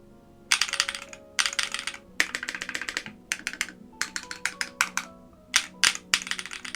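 Bursts of typing on a Hall effect mechanical keyboard with linear switches, crisp clacky keystrokes in quick runs separated by short pauses, close and clear with no talk.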